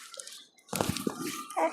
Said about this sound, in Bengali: কাসুন্দিটা ঢেলে দিই।